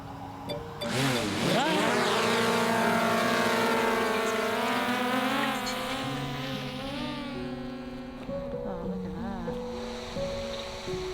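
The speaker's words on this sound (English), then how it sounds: "Come on, little drone, do your thing." A small drone takes off and flies on an outback road trip, its buzzing motor whine rising in pitch and wavering steadily and loudly near the microphone, then gradually settling.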